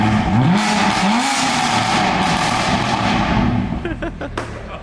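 A BMW F80 M3 with an Active Autowerke non-resonated equal-length mid pipe, exhaust valves closed, revs loudly nearby in rising and falling blips, then settles toward idle with a few sharp pops.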